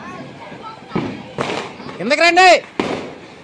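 Diwali firecrackers burst at night in a few sharp, separate bangs spaced about a second apart, while a person talks nearby.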